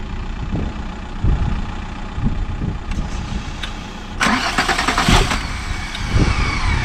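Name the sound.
VW Golf MK4 R32 car engine being started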